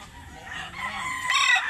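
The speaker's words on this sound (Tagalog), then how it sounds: "Ito yung manok ni Kuya Ben." A rooster belonging to a man called Kuya Ben crows and clucks close by, a short drawn-out call rising and breaking into raspy clucks within about two seconds.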